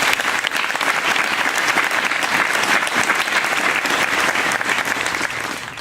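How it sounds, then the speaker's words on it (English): A commencement audience applauds the graduating class of 2017 with loud, dense, sustained clapping throughout, easing off slightly at the close. "How about a round of applause for the class of 2017?"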